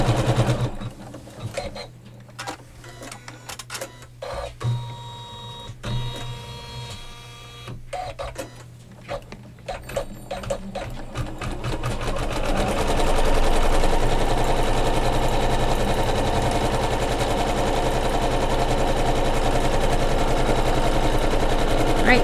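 A sewing machine quilts the flange of a Kimberbell pillow, its stitching starting in short bursts and stops, then settling into a fast, continuous, loud mechanical whir for the second half.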